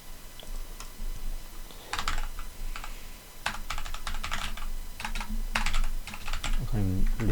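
Bursts of computer keyboard typing, quick clicking clusters separated by short pauses, close and moderately loud over a faint background hum, with a brief low voice near the end.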